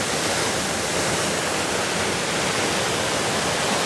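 Channat waterfall at Satkund, a loud, steady broadband roar of falling water heard close up, constant and unbroken throughout with no talk.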